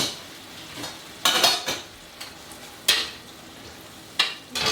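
Chili chicken frying in a pan is stirred with a utensil, giving several sharp, close scraping bursts over a soft, steady sizzle.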